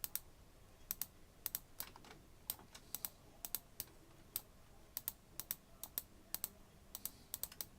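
A computer mouse clicks during terrain editing in Unity 2018 in a quiet room: sharp, close, isolated clicks at an irregular pace, sometimes in quick doubles, with no voices.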